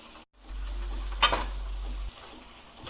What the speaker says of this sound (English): Let's give it another little stir.